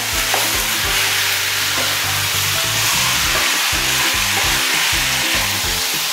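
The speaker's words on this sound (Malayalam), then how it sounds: "ഇതിനകത്തോട്ട് കഴുകി വെച്ചിരിക്കുന്ന ചിക്കൻ കഷ്ണങ്ങൾ നമുക്കിടാം. അതിനുശേഷം ഇത് നന്നായിട്ടൊന്ന് ഇളക്കി കൊടുക്കാം." Washed chicken pieces sizzle loudly and continuously in a pan while being stirred, cooking for a spiced chicken varattiyathu, with repeated rhythmic scraping strokes close up and no talk.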